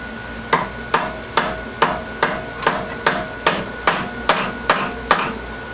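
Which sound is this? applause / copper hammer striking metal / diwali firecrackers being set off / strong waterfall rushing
copper hammer striking metal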